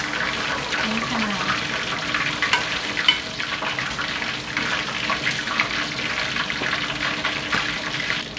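Steady, dense sizzling of snakehead fish frying in oil in a small pan, continuous and close, with occasional spatters and faint scraping throughout.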